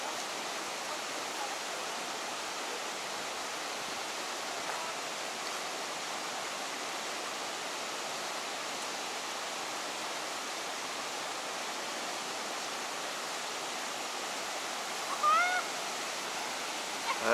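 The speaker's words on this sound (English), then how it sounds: "I guess this is a Gallatin River." The Gallatin River rushes along the Ousel Falls Trail as a steady, broadband roar of flowing water that stays constant throughout, with no other sounds standing out.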